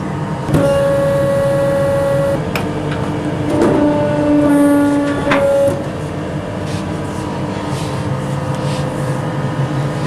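A bakery dough machine at work in a boulangerie while baguette dough is floured and divided, giving steady mechanical whirring with tonal hums and a few sharp clanks, louder through the middle and easing off toward the end.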